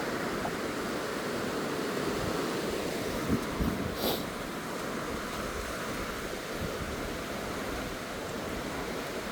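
The Wainuiomata River flowing, heard as a steady, broad rushing wash of water that holds constant throughout, with a faint brief knock partway through and no speech.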